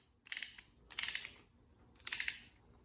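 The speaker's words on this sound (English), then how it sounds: "this wrench compresses the piston quickly and easily into the caliper" Brake caliper press wrench compressing a piston into a brake caliper: three short bursts of dry mechanical clicking, each lasting about a quarter second, close and fairly quiet with pauses between.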